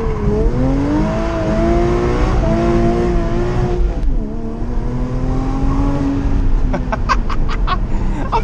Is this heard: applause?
no